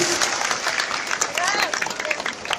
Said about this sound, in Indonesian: Tepuk tangan buat seluruh ibu yang ada di sini.